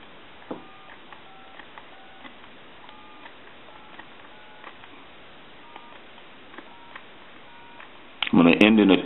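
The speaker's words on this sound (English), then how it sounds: "And then what we want to do is dial the numbers." A telephone handset dials numbers during a repair, producing a row of short, faint, evenly spaced tone beeps over a low hiss, followed by a sudden loud burst of noise at the end.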